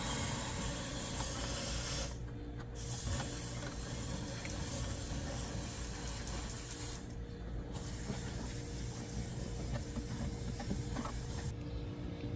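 Aerosol foam cleaner sprayed into the A/C evaporator of an R50 Nissan Pathfinder or Infiniti gives a steady close hiss, broken by three short pauses between bursts.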